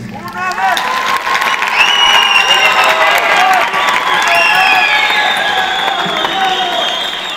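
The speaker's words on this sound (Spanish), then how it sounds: "Yo quiero pedirles con todo cariño un aplauso fuerte" Concert audience in Potosí applauding and cheering for a folk music group, a dense continuous wash of clapping with whistles and shouts, loud and sustained throughout.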